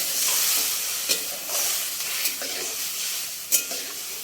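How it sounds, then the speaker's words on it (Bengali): Potatoes stirred in a pan with salt, turmeric and water, a continuous close hiss and sizzle broken by a few distinct spoon scrapes and knocks against the pan. "1/2 চামচ লবণ দিয়ে একবার নেড়ে নেব।"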